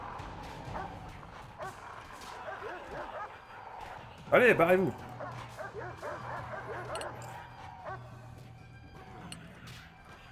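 During a prison-break brawl in a video game, a dog gives a sharp burst of barks and yips, then whimpers, close and loud amid scuffling, while someone talks over it.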